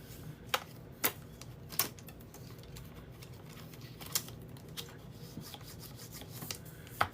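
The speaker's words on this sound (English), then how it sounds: "You can also come in here with your bone folder" A bone folder pressing and rubbing along a paper craft box, faint scraping strokes broken by sharp intermittent taps and clicks, close and quiet with no talk.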